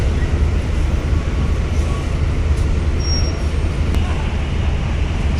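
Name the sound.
Sahara Trans bus passing at Bakauheni port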